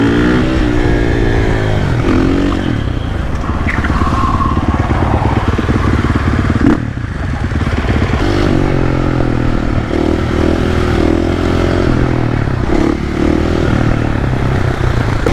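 A supermoto motorcycle rides at night, its engine loud and close, revving up and down repeatedly with brief throttle surges and a short drop in the middle.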